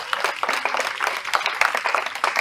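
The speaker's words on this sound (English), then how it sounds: "Can we give them a round of applause as they come up?" Audience applause at an online concert as the performers come up to sing: a dense, steady patter of many hands clapping, moderately loud and continuous throughout.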